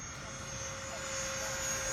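Freewing 90mm F-4 RC jets, one inverted and one upright, making a low formation pass at an airfield: a steady whining engine hum with a thin high tone, building slightly louder over the two seconds.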